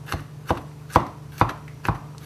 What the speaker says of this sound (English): I'm just finely chopping the garlic.